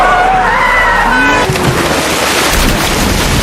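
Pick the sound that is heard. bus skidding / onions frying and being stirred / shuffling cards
bus skidding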